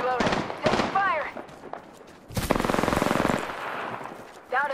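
Gunfire in Apex Legends, played as the character Mirage, comes as one loud, rapid automatic burst in the middle, with voices talking before and after it.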